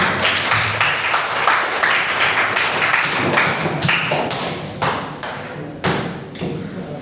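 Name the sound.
group applause clapping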